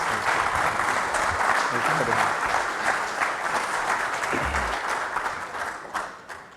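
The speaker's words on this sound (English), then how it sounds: "Please give him a big round of applause." An audience claps for a motivational speaker and life coach being introduced on stage at a morning session. The applause is loud and dense, sustained for several seconds before slowly thinning toward the end.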